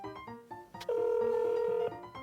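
A telephone ringback tone sounds once as a call is placed to a children's after-school care service, a steady ring of about one second between quieter tonal beeps, clear and close.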